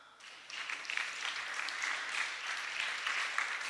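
A church congregation breaks into applause, a dense, moderately distant clapping that swells after a brief start and holds steady to the end.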